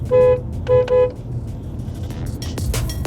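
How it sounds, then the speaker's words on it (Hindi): Horn of a 2021 Kia Sportage AWD honks three times close by, one longer blast then two short ones, with road noise and a passing vehicle after. "ज़रा इसका हॉर्न तो बजा के दिखा दें"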